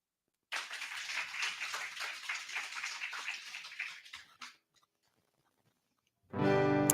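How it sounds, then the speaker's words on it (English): A congregation at a Sunday spiritual service claps for a singer: about four seconds of even, moderately close applause that thins out and stops. After a short silence, a loud sustained musical tone begins. "Let's give her a round of applause."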